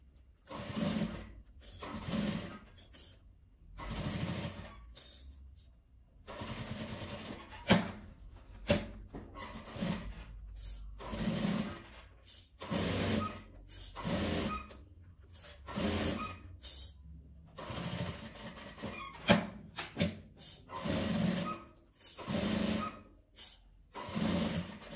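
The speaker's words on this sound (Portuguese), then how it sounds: "Ou então vem costurando a máquina mesmo para fazer esse acabamento" Home sewing machine stitching small fabric scraps for a patchwork landscape piece, a steady mechanical whirring that runs in repeated bursts with short pauses between seams.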